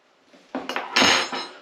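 Metal cutlery rattling in a kitchen drawer as a spoon is grabbed: a quick burst of close, bright clinks and clatter lasting about a second, with no talk.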